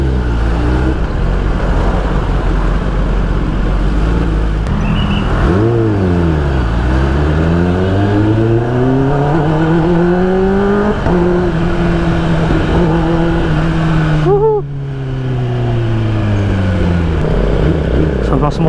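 A 2024 Kawasaki ZX10R sport bike rides through city streets, its engine and exhaust climbing and dropping through repeated revs and gear shifts, loud and close throughout, with a sharp throttle blip near the end.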